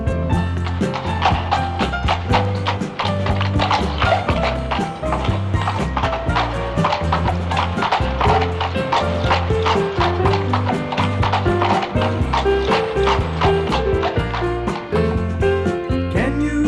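A horse-hoof clip-clop sound effect from a children's radio movement show, heard as steady, evenly spaced clopping beats layered over a constant musical backing with no talking.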